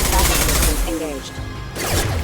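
Gunfire in Mass Effect Legendary Edition, loud bursts of game weapon shots in a short combat exchange with booming low impacts and voices speaking over it.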